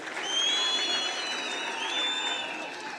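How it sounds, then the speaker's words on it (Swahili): Crowd at a political rally clapping, a steady dense wash of applause with a few whistles riding over it, sustained for a few seconds at moderate distance. "mpigeni makofi."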